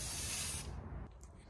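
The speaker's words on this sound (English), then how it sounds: "we are just going to spray paint this border because I want it to be gold instead of silver" Aerosol spray paint hissing as gold paint is sprayed onto the border of an old CRT television, a close, steady burst lasting well over half a second before it tapers off and stops.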